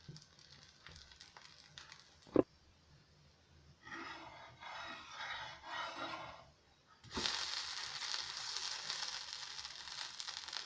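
Instant rawa dosa cooking in ghee on a pan: quiet at first with a sharp tap, then a soft hissing sizzle rises and grows louder and steadier, continuing to the end.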